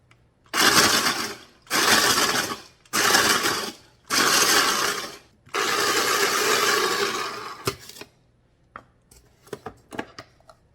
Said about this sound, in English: I'm going to put this in my food processor and just break this down